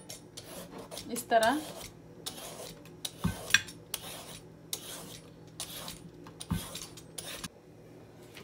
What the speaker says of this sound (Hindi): सबसे पहले हम कद्दू को कर लेंगे पील